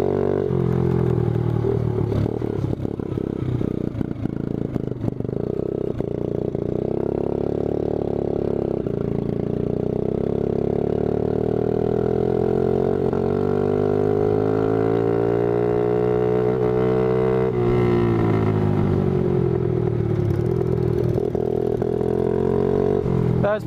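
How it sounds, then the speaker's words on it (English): A Yamaha 80cc four-wheeler and a go-kart race each other, their small engines droning loudly and steadily throughout, with the pitch rising and falling as they rev and shift. "Racing the bike and the go-kart"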